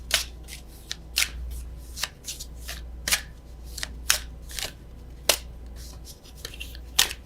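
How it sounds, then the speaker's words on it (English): Oracle cards being shuffled by hand, giving a run of crisp riffling bursts at an irregular rhythm, close and fairly quiet over a low steady hum. "Let's get one oracle."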